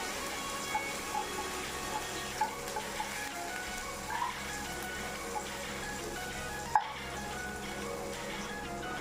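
A low, steady sizzle of ginger-garlic paste frying in oil runs throughout, with faint scattered taps and a sharper clink near the end. No voices.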